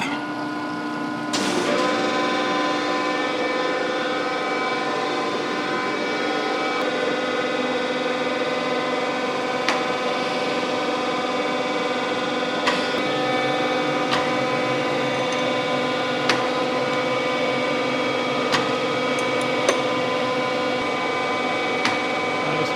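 A surface grinder starts up to grind straight-edge castings, with a sudden onset followed by a steady, tonal machine whine and hum, interrupted by faint periodic clicks, close and continuous with no talk.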